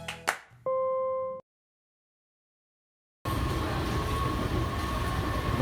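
A Washington Metro Kawasaki 7000-series train, car 7158, rolls along with a loud, steady interior rumble and hum. It starts after a short electronic tone and a few seconds of silence, and no one speaks.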